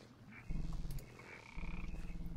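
A small frog croaks in SevTech Ages, a modded Minecraft world, giving two bursts of rapid, throaty, pulsing croaks, each lasting about a second, close and fairly loud.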